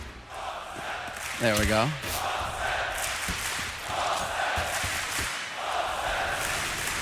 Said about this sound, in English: That got the crowd chanting.